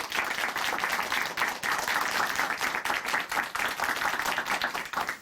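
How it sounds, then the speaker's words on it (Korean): Steady audience applause at a Korean Christian broadcast testimony program, many hands clapping densely and continuously for the full length without any talk over it. "다시 한번 큰 박수 보내드릴게요."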